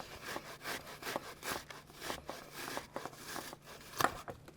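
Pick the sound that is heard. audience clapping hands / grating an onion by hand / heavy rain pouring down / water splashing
grating an onion by hand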